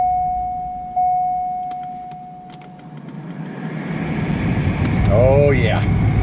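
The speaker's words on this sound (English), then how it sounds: "Let's test our new blower motor." A newly installed AC blower motor in a 1997-2004 Chevrolet Corvette C5 switches on with a steady tone, then rises into a loud, broad rushing whoosh of air from the dash vents, with a person talking briefly over it.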